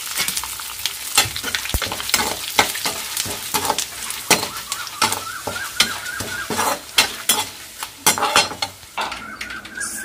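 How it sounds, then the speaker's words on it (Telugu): Mustard seeds, spices and curry leaves sizzle and crackle in hot tempering oil for a chutney, a steady close frying hiss with sharp pops and occasional stirring clinks throughout, without any voices. "ఇంకా తాలింపు వేసుకున్నాం"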